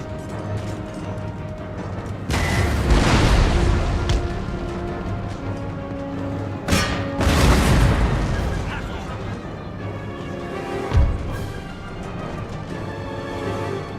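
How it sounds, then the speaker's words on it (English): Artillery fire in the strategy game Total War Empire, with heavy, rumbling booms and long roaring blasts swelling and fading across the battlefield, plus a sharper thud near the end, under a low background. "Okay, artillery. Fire on them."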